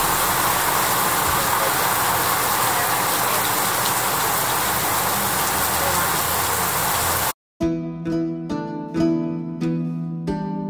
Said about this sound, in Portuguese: choveu a noite inteira e tá chovendo agora